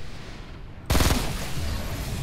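Gunfire in the Fortnite Battle Royale video game, a sudden loud burst of rapid shots kicking in after a quieter background and continuing as dense crackling fire, with no talking.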